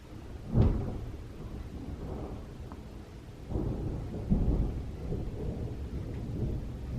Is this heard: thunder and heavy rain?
yes